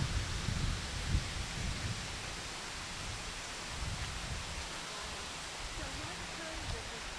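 Broad, constant rushing of the Coosawattee River, running high after storms, fills the scene, loud and unbroken, with a few faint low voices or bumps underneath.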